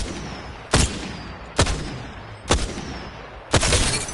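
Four loud, evenly spaced Triple Take rifle shots in Apex Legends, each a sharp crack with a short ringing tail, fired roughly once a second.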